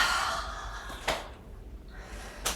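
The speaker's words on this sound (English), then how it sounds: "Detoxifying lion's breath." A person performs lion's breath during a yoga session, giving forceful, breathy exhalations: a long rushing breath at the start, then two sharp, close bursts about a second apart, with no talking.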